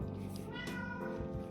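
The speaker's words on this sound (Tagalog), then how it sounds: "Reklamo na yung pusa ko." A pet cat meows insistently after a meal, a drawn-out, whining caterwaul heard close and fairly quiet against a steady background.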